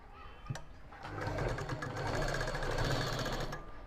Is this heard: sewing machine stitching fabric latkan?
yes